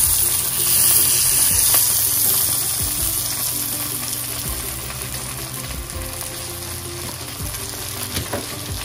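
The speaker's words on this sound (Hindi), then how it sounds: "देखिए, आपको शो करने के लिए हमने रेगुलर फ्राइंग पैन में भी इसको ग्रिल किया है।" A quesadilla crunchwrap sizzles in butter in a regular frying pan, a loud, steady crackling fry with small scrapes and clicks as it grills, no voices.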